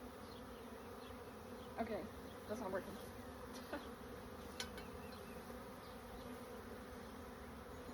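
Honey bees buzz in a steady, dense drone while a new beehive is opened for its first inspection in April, with a person speaking briefly over the swarm.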